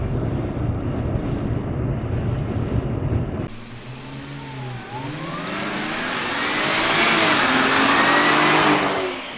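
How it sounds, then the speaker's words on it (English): A 2018 Jaguar XF Sportbrake S AWD's engine rises steadily in pitch and loudness as the car accelerates, the revving building over several seconds, close and clear with no talking. "The moment you tap on your accelerator, this car will go"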